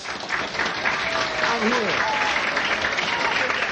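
A nightclub audience at the Half Note applauds as a jazz guitarist is brought to the stage in 1965, steady broad clapping and crowd noise with someone speaking over it.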